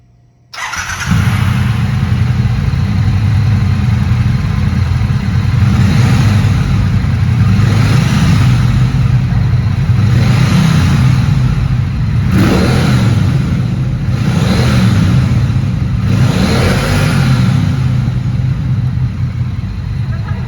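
A Triumph Bonneville Bobber 1200 motorcycle starts and idles with a loud, deep rumble close by, with several throttle blips rising and falling over twenty seconds.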